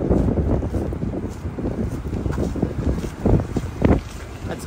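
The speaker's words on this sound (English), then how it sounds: "Why is it so windy here?" Strong wind buffets the microphone outdoors along a city rail line extension, roaring in loud uneven gusts that swell and peak near the end, with no speech.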